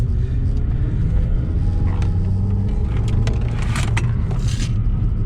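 A Ford Fiesta engine drones loud and steady while driving hard in third gear, with a deep rumbling roar, mechanical rattles and brief scraping bursts throughout.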